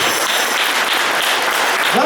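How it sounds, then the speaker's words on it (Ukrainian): Steady dense applause from a crowd filling an indoor hall during a speech in Athens, continuous and loud throughout. "Оплески в залі всі, хто підтримує цю думку"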